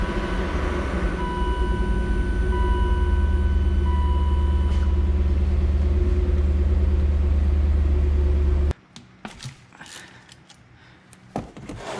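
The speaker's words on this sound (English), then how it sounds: "I'm just gonna let the car idle for 10 minutes." A BMW E39 M5 idling in a partly open garage with a loud exhaust, giving a steady close low rumble for about nine seconds before cutting out, followed by a few faint clinks and shop noises.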